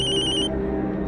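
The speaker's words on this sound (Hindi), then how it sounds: "कल जो लड़कियां आने वाली है उनमें से एक का फोन है।" A telephone ringtone plays in repeated electronic pulses for about half a second, then cuts off, leaving a low room murmur behind it.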